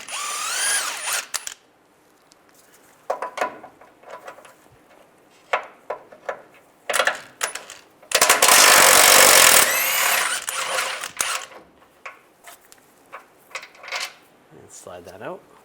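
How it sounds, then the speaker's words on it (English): Bolts are removed on a 2007-2013 Chevy Silverado during a timing cover replacement, with scattered close ratcheting clicks and one long, loud power-tool burst midway, while someone talks between the bursts. "on the other side, we're going to take these two bolts out,"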